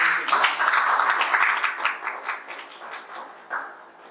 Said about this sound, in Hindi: एक बढ़िया सी तालियां हो जाए